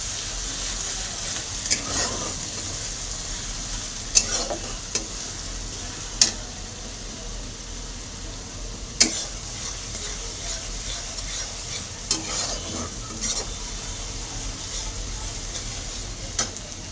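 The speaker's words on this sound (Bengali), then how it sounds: "পেঁয়াজ কুচি দিয়ে দেবো।" Coarsely grated onion frying for a fish curry, a soft continuous sizzle with periodic light taps and scrapes of a spoon against the pan, fairly close and steady.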